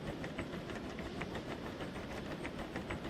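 A steam train in the Derail Valley game rolls across a bridge, steady rumbling with rhythmic clickety-clack of wheels over rail joints, fairly faint and continuous, no voices.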